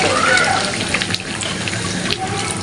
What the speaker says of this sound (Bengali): এখন শুধু ঝোলের পানিটা দেব।